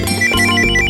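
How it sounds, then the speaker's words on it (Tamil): A phone rings with an incoming call, a loud, bright electronic ringtone playing its melodic tones steadily and up close, with no voices. "தேவ் தான் ஃபோன் பண்றான்."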